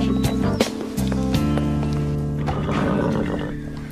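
A horse whinnies loudly and close by over a steady musical bed, with hoof clip-clops and stamping mixed in across the few seconds.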